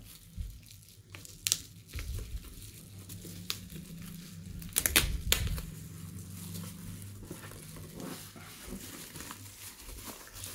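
A Corsair CV450 power supply box is unboxed at close range, with soft crinkling and rustling of packaging plus a few sharper tearing and handling bursts, fairly quiet throughout.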